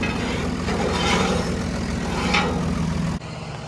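A farm tractor fitted with a front grain bucket runs at a steady low idle nearby, its engine a constant rumble that drops abruptly near the end.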